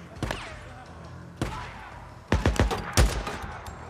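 Assault rifle fire in the zombie survival game Days Gone cracks in sharp, separate bursts, a single shot, then quick clustered volleys, heard close and loud.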